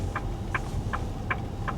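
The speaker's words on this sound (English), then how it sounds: "Frogs are croaking down there." Frogs croak down below outdoors in Seward, Nebraska: five short, evenly spaced calls, faint and far off over a steady low background rumble.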